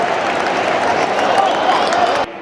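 Crowd at the London Stadium during a West Ham versus Tottenham derby, a broad roar of applause and noise sustained throughout, cutting off abruptly near the end, with voices mixed in.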